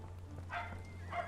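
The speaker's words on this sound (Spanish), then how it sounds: "acá van a escuchar ladrido de perro a cada rato porque es un quilombo" Two short dog barks in the Sherlock Holmes The Awakened remake video game, faint and somewhat distant, spaced about half a second apart over a low steady hum.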